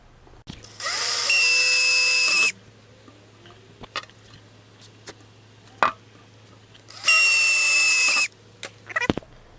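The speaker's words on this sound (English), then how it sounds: "and then drill the holes" A power drill whirs in two sustained bursts of about two seconds each, drilling holes for a license plate flipper, separated by quiet clicks and handling knocks, close by.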